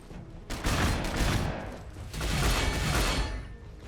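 Gunfire in the Warhammer 40,000 strategy game Gladius: Relics of War comes as two loud, dense fusillades of overlapping shots and impacts, with a short lull between them and no voices.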